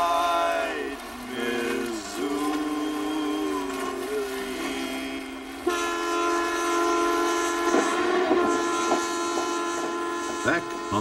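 Transcontinental passenger train to Montreal on the Canadian main line in 1989, with long sustained horn or whistle tones over a steady rolling rumble that lasts throughout, fairly loud and close.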